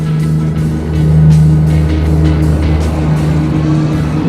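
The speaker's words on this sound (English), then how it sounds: "On a dead stop, how fast does the throttle take off?" Blix Vika X foldable electric bike pulling away from a dead stop on throttle: a steady, close hum and rushing drone that swells slightly as it gets moving, with no talking.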